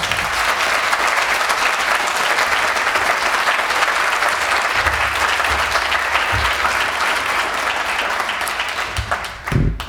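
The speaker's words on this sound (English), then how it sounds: "We have another round of applause for this great choir" Sustained, loud audience applause for a choir at a veterans salute ceremony, steady dense clapping throughout that fades slightly near the end.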